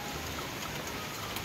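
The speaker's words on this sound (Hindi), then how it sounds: "आज मस्त बारिश आ रही जोरों से," Heavy rain pours steadily outdoors, a dense, unbroken hiss that stays loud and even throughout with no voices.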